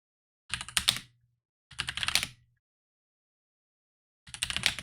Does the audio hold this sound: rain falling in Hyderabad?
no